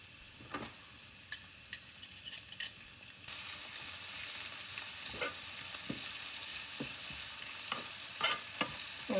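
Onion, peppers, tomato and garlic sauté in a hot pot with a steady, close sizzle, broken by occasional scrapes and clinks of stirring, growing slightly louder partway through.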